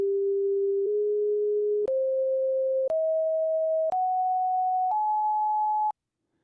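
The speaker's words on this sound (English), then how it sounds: "I'm going to play what the Leonard Horowitz solfeggio scale would sound like, just to give you a comparison using the same signal generator" A signal generator plays six pure sine tones of the Horowitz solfeggio scale, each steady for about a second and stepping upward in pitch, with brief clicks between them and silence at the end.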